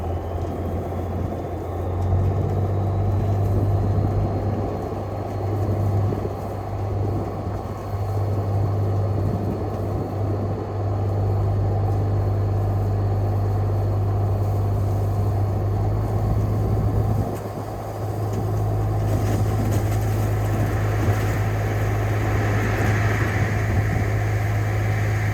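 A straight-piped Cummins diesel dump truck rumbles steadily nearby while dumping gravel, a constant low drone with a few dips and a brighter clatter near the end.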